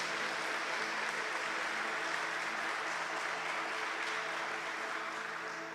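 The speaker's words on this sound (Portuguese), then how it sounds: "Uma salva de palmas para o Papa João Paulo II." Sustained audience applause at a Catholic lecture or gathering, a dense, even wash of many hands clapping at moderate loudness throughout, without voices standing out.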